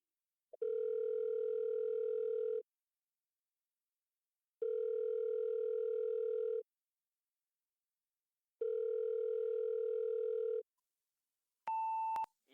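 A telephone line rings out during a call, three long, evenly spaced steady ring tones, clear and alone, followed by a brief electronic beep.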